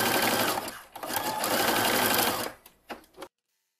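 A sewing machine hems the bottom edge of a swim top, a fast, loud continuous whir close by that breaks off briefly, restarts, then stutters in a few short bursts before stopping dead.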